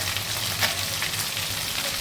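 Boiled kharkol leaves frying in a pan give a steady, soft sizzle that holds even throughout, with a low background hum underneath and no voices.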